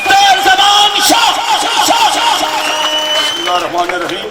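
An audience at a golden jubilee and old students function welcomes a speaker with loud, sustained crowd noise and cheering, with voices whooping over the din.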